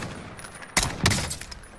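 Gunfire in the video game Warzone, two sharp shots a fraction of a second apart cracking out of a quiet background, each with a brief ringing tail.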